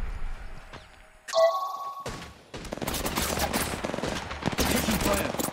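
Gunfire in Apex Legends Mobile, a burst of rapid automatic shots after a few sharp single cracks and a short ringing effect, loud and sustained over game sound.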